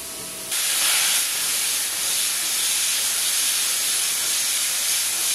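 A plasma cutter slicing through metal kicks in with an abrupt, loud, steady hiss that holds unbroken for several seconds, bright and close with no voices.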